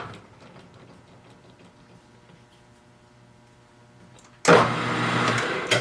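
A small homemade steam engine, faint and ticking at first, then suddenly jumping to a loud, steady high-RPM whir that holds to the end.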